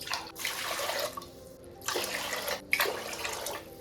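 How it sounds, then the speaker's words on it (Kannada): Water pours from a cup into a pot of washed rice for khara pongal, three separate splashing pours close by with short pauses between them. "ಅದಕ್ಕೆ ನಾನು 3 ಲೋಟ ನೀರನ್ನು ಸೇರಿಸ್ತೀನಿ."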